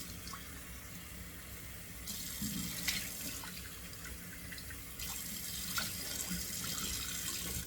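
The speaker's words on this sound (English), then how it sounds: "All right, water is nice and cold in the sink now." Steady rush of cold tap water pouring into a sink, splashing continuously with a few faint clinks, the flow growing slightly louder partway through.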